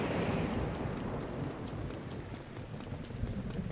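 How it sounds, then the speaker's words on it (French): Rain in the video game Zelda: Breath of the Wild hisses steadily over a broad wash of noise, with faint regular taps recurring throughout and no talking. "Il pleut."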